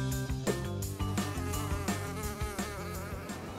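Cartoon housefly buzzing steadily and close, a continuous whining drone layered over background music with no talking.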